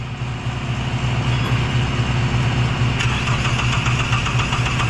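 A Ford Escape 2.3 engine that has suddenly died cranks over without catching, a steady mechanical churn close by with a sharper rattling, ticking layer joining partway through and no speech.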